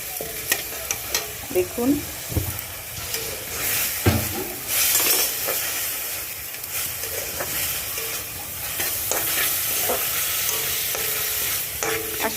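A spoon stirs and scrapes through spiced chicken gravy in a pan as it fries with a steady sizzle, with light clinks against the pan and a brief spoken word.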